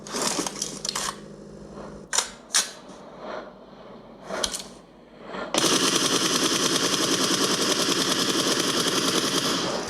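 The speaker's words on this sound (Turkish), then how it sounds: "şuradan çatışma sesi geliyor" Sharp video game gunshots in PUBG Mobile pop irregularly, then a long rapid burst of automatic fire rattles continuously, loud and close-sounding.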